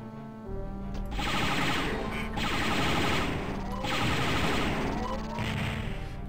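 Rapid gunfire in the Star Wars: Dark Forces game as robots are shot down, a dense continuous burst of blaster fire pulsing in waves, loud and unbroken under no clear speech.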